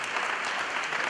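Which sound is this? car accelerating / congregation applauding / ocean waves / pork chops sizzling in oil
congregation applauding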